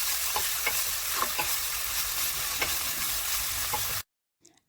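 Minced meat browns in a pan for lasagna, sizzling steadily and loudly up close, with several scraping strokes of a spoon stirring through it, then cutting abruptly to near silence.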